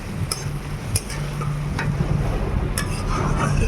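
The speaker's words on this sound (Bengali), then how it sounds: "এবার আমি একটু ভালো করে নেড়ে একটু কষিয়ে নেব" Potato and soybean masala frying down in a pan after the water has dried off, stirred by hand: dense close sizzle and hiss with a few sharp spatula taps against the pan, no talking.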